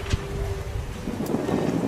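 Steady wind noise buffeting the microphone on a sailboat under sail off Croatia, a broad continuous rush with low rumble throughout, no voices.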